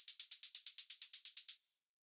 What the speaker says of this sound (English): The next thing that we have here is this operator hi-hat,